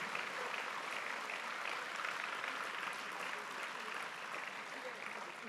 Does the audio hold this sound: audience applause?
yes